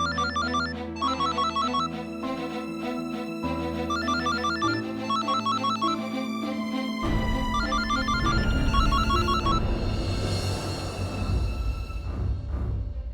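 A phone rings with a call from a doctor, playing a loud, repeating melodic electronic ringtone that cycles through its tune. A fuller, swelling musical backdrop builds up under it partway through.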